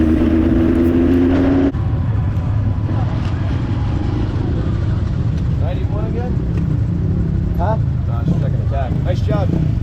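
Midget race cars charge toward the checkered flag at a Badger Midget race, their engines droning loudly and continuously with a brief rising whine early on, while voices talk over the noise in the second half.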